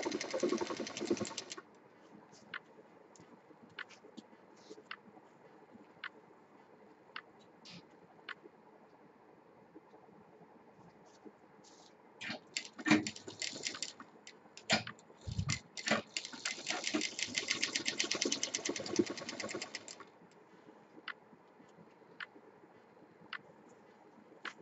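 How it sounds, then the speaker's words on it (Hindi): A sewing machine stitches a strap onto a beaded fabric shoulder bag. Short bursts of rapid mechanical chatter come at the start and again in a longer stretch midway, separated by quiet pauses with faint ticking and background music. "लाइन पर पट्टी को रखते हुए सिलेंगे"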